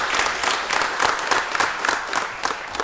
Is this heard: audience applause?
yes